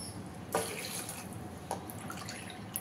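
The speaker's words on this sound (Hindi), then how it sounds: "2 कप पानी डाल रहे हैं।" Two cups of water are poured into a pressure cooker for jackfruit kofta, a steady close trickle and splash with brief louder gushes as each pour lands.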